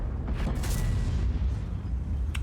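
A tank gun fires in the World of Tanks video game, giving a muffled boom that rolls into a heavy low rumble lasting a couple of seconds.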